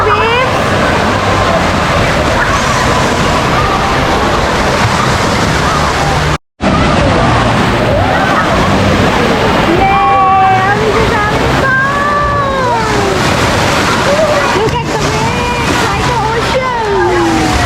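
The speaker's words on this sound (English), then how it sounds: "So this one is the wave pool." Waves roll and slosh steadily in a resort wave pool at the Gaylord Pacific in San Diego, a dense, continuous wash of water noise with faint voices and splashing swimmers mixed in.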